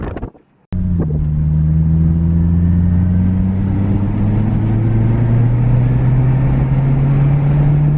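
An Acura RSX with a newly fitted exhaust drives off after a short pause, its engine note a loud, deep, steady drone that holds close and continuous through the run, with wind rumble on the microphone and no talking.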